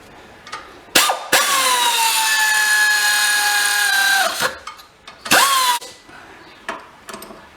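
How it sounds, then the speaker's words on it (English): Bolts being tightened while a CV joint on a 2007 VW EOS is reassembled bring a loud power-tool whir that holds for about three seconds, then a shorter second burst, with faint clicks between. "I'm just going to do up these bolts here"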